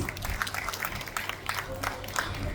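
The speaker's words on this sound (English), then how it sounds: "can we have a huge round of applause for my talented kids?" Parents at a primary school orientation clap for students in a brief, moderately faint spatter of applause with scattered distinct claps, while a voice murmurs underneath.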